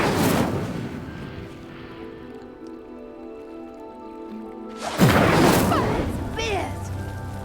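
In the Hogwarts Legacy video game, the Incendio fire spell is cast at stone pyres. A burst sounds at the start, then a low lingering tone, then a loud whooshing flare of flame erupts with crackle near the end.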